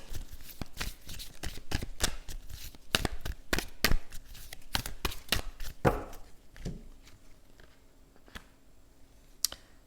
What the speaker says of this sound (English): we're going to use the Sacred Spirit reading cards here